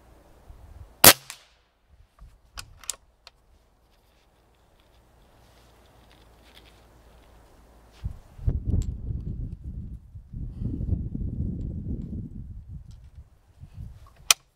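A Umarex Gauntlet 25 air rifle fires several sharp, close cracks scattered across a quiet stretch, followed by a longer rumbling, shuffling noise.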